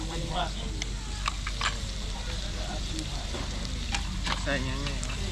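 Pork sizzles on a grill with a continuous crackling hiss and scattered pops, while people talk over it.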